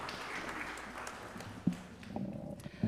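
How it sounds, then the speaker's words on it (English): A congregation at a Sunday service applauds lightly, scattered claps fading under the room, with a few louder knocks and thumps toward the end; no talking. "You can totally applaud"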